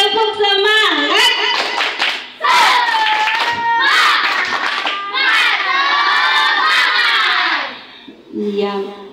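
A group of schoolchildren on an outdoor study trip chant and shout in unison, punctuated by sharp rhythmic clapping in a lively spirit cheer, with a brief pause before the voices return.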